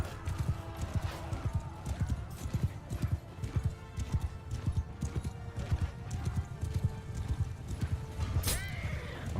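Horses gallop with dense, rapid hoofbeats and a neigh during a Bannerlord video game battle, loud and close, with a sharp whinny near the end.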